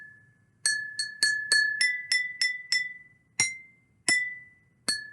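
Drinking glasses holding different amounts of water are struck one after another, about eleven bright ringing clinks at varied pitches, each decaying quickly, close and alone over faint background hum.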